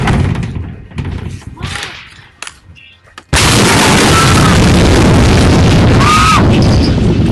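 A faint rumble and muffled knocks from the Beirut explosion's tremor build, then the pressure wave's massive boom hits suddenly and sustains as a loud, roaring blast that fills everything.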